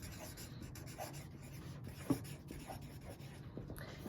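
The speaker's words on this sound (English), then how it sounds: "So I'm going to write out Wednesday." Pen writing on paper while working a math problem, soft scratchy strokes in short bursts with one sharper tap midway, quiet and close with no talking.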